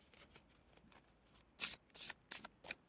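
Oracle cards are shuffled by hand in a few crisp, quick bursts of riffling that grow louder toward the end, with quiet room tone between them and no talking.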